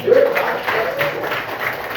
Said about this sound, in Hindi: Very good, Tali.